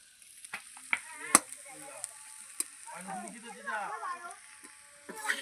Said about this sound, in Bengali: তো এখানে চাউমিনটা দিয়ে এখন প্রথমে নেড়ে নেওয়া হচ্ছে।